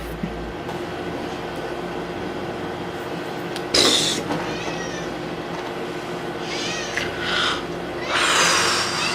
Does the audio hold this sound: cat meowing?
yes